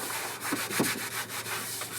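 Rubbing alcohol wiped by hand over the surface of a GMC Sierra HD pickup truck, a series of brief, close rubbing swipes with a soft, even texture and no talk.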